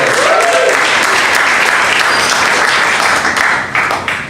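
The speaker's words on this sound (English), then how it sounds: "So everyone give a round of applause to the bartending staff tonight." A comedy club audience gives a round of applause for the bartending staff, loud dense clapping with a few cheers that holds steady, then thins and tapers off at the end.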